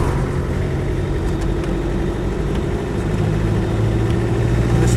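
Land Rover Defender 110 station wagon, an early model with a 300TDi diesel and R380 gearbox, driving along a road; a steady, continuous engine drone with road rumble, close and fairly loud throughout, with no talking.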